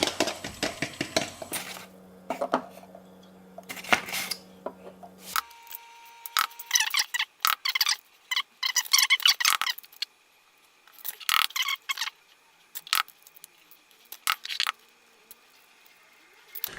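A utensil scrapes and clinks against a bowl as batter and flour are mixed for pasteis de nata, with irregular bursts of knocking and stirring, close and fairly loud, and no talking.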